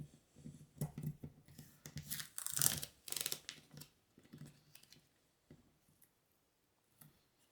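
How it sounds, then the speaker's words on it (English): Tape being peeled off a speaker tweeter during a build, a cluster of sharp tearing and crackling bursts over a few seconds that trail off into faint ticks, close and quiet with no talk. "I might just remove the tape instead."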